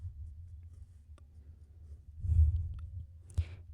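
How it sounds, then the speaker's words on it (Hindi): Pen writing out a math solution on paper, faint soft scratching strokes with a couple of light taps and a brief louder rustle, close and quiet. "फिर लिखेंगे"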